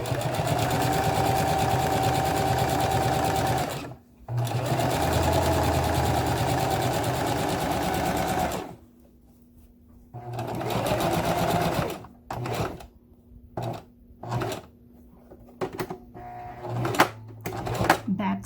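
A Singer sewing machine stitches a handbag in close, steady motor bursts: two long runs, then a string of short stop-start stitches as the bag is pivoted and backstitched, with a person talking between the runs.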